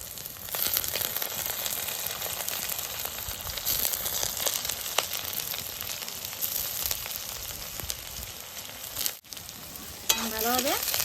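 Soaked dried fish frying with reddened onions and garlic in a pan, a dense continuous sizzle up close with occasional scrapes and stirs, briefly interrupted near the end, with no talking.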